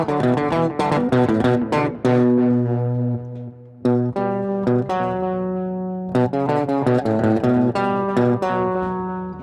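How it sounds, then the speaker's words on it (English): Tonal musical sound run through an echo or delay effect on a podcast mixer, with repeated notes trailing and overlapping in loud, continuous bursts that pause briefly before resuming; no talking. "Oh, we got some nice echo going."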